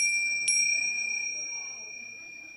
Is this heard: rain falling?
no